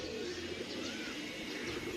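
Pigeons coo softly over a steady wash of background noise, with more pigeons landing from above during a pigeon flying competition.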